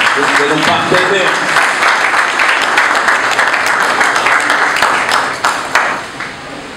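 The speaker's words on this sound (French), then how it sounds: "Je demande que l'assistante puisse au moins acclamer cet effort de nos partenaires." Audience applause at a ceremony presenting the local security plan of the commune of Bumbu, a loud, dense burst of clapping that holds steady for several seconds before thinning out.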